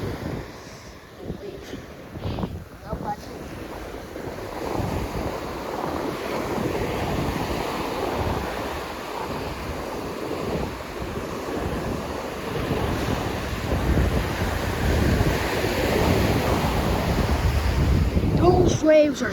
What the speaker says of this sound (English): Those waves are so huge.